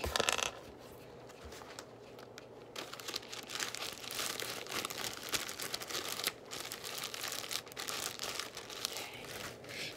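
A wet, folded paper towel is pushed into a plastic bag, giving close crinkling and rustling of plastic that continues fairly steadily with small crackles, starting with a brief louder handling sound.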